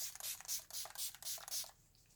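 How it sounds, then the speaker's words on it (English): Gerard Cosmetics Slay All Day setting spray in the Rose scent being misted onto the face in about six quick, soft hissing spritzes with a steady rhythm, faint and close, then trailing off. "we'll use some setting spray, Gerard Slay All Day in the scent Rose."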